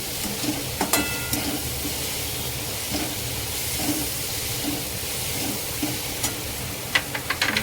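Vegetables sautéing with masala in a pan give a dense, continuous sizzle and hiss, with occasional scrapes and clinks from stirring standing out above the frying.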